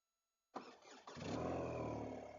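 BMW R12 motorcycle engine cranks with a starter whir, catches and settles into a steady, close, rumbling idle with strong vibration, no voices.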